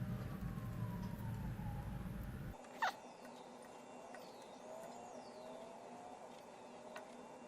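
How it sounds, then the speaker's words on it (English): A siren from a nearby busy street wails faintly in the distance, with rising and falling tones drifting through a quiet room after a steady background hum cuts off. "Seems like every time I video there's a siren."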